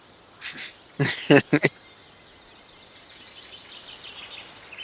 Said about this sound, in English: You can hear all the exotic birds from the different countries, thanks to the World's Fair Pack.